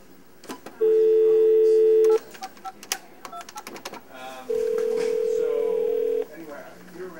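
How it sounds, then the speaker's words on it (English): A phone is dialed: quick button beeps and clicks between two long, steady ringing tones, fairly loud and close. "we may need to speed up the video as we get Chuck on the phone"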